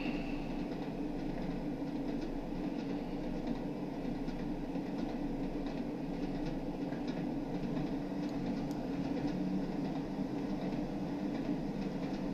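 A Class 101 DMU train on the Tees Valley Line in Train Sim World 3 runs steadily, a continuous rumbling drone of engine and wheels with faint rhythmic clatter, no voices.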